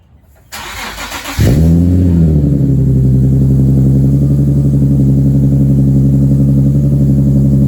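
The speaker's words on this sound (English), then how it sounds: "Sounds a little louder. Got mad rumbling." A car engine cranks and fires up, settling into a loud, steady, low exhaust rumble close by.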